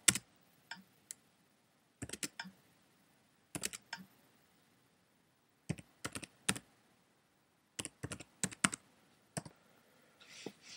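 Password typed on a computer keyboard in short bursts of crisp, close key clicks separated by pauses, in an otherwise quiet room.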